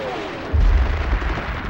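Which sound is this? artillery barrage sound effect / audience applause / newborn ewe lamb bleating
artillery barrage sound effect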